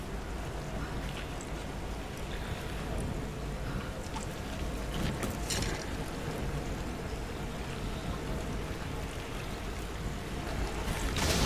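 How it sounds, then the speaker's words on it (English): A video game waterfall gives a steady, dense rush of falling water that fills the whole stretch. It stays loud and even throughout, with no voices over it. "Waterfall!"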